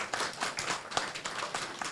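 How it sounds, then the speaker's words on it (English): Forum audience applause fills the short stretch, a dense spread of hand claps at steady moderate loudness, continuous from start to end. "Please join me to give them a big round of applause"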